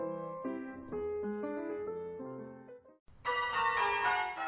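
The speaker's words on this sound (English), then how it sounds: "It started with a peal on the bells from St Mary's Band of Ringers." Church bells pealed by St Mary's band of ringers, clear ringing tones tumbling in a descending sequence, then after a brief gap a louder, brighter burst of bells sounding together, nearby and with no voices.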